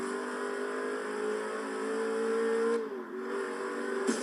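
Saleen S7 supercar in Forza Horizon 3, a steady, loud engine drone that rises in pitch, then dips sharply at a gear shift before climbing again, with no talk.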